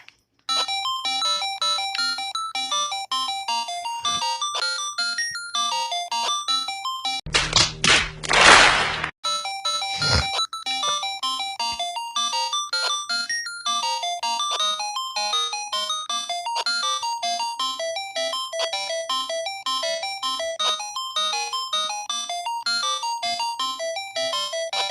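Sega Master System video game music plays as bright, steady chiptune melodies with a repeating beeping rhythm, broken briefly by a burst of loud crashing noise and a sharp hit before the tune carries on.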